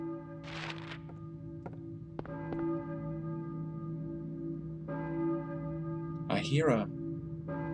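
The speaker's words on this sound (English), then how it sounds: "a church bell, maybe. Who's ringing the bell?" A church bell rings in sustained, overlapping tones in the video game Silent Hill, with a person speaking briefly at the start and near the end.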